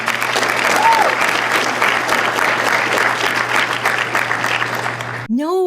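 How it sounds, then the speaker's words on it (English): An audience claps in dense, sustained applause with a faint crowd murmur, ending abruptly as a short tonal sound cuts in. "No, audience, you're not supposed to clap."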